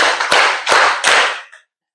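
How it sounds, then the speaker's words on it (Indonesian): A class claps on a teacher's command: three sharp, loud group claps in even rhythm, followed by a fourth shorter clap, then silence. "Kalau Bapak bilang tepuk 1 kali, berarti tepuk 1 kali, tepuk 1 kali, tepuk 2 kali, tepuk 3 kali, tepuk 4 kali."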